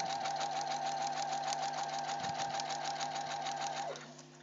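A sewing machine stitches a straight seam on a parka with a fast, steady whirring hum, close and loud, slowing and stopping just before the end, with no talk.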